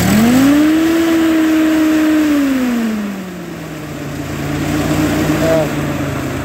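A 1949 Ferguson TE20 tractor engine runs steadily up close. The throttle opens and the pitch rises, holds, then sags back to a lower, even running note.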